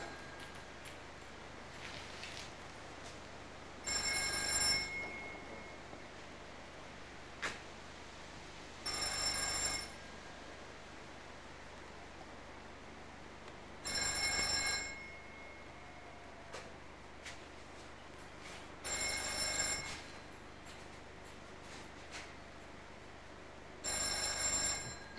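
An old telephone bell at Sovereign Hill in Ballarat rings in evenly spaced bursts, five rings about five seconds apart over a quiet background.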